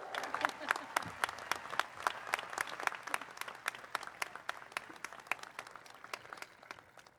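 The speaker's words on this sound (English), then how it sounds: "Let's give ourselves a round of applause." Sparse, faint applause from a small group at a college commencement ceremony, claps landing in a fairly regular rhythm as if from a distance.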